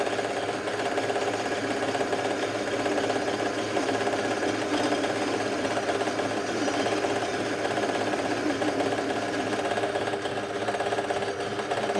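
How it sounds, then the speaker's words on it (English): A lathe center-spots a metal part to form a 60 degree chamfer, giving a steady, moderate machine whir with a faint rhythmic chatter running evenly throughout. "I'm just going to center spot this, just to bring that chamfer into a 60 degree."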